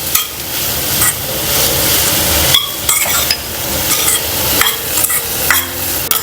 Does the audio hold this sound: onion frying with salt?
yes